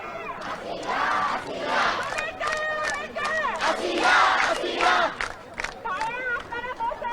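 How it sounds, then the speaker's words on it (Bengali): Protesters at Dhaka University chant slogans together, a loud rhythmic group of voices rising and falling in repeated shouted phrases, with a megaphone-like lead voice cutting through the crowd. "মাইকেও নানা রকম স্লোগানে কিন্তু আসলে তারা মুখর করে যাচ্ছে ঢাকা বিশ্ববিদ্যালয়"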